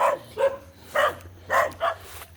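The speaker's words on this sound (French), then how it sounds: "Je savais pas qu'il y avait autant de chiens ici." Several dogs bark in a series of five sharp, evenly spaced barks at moderate distance, with low steady background noise and no talk.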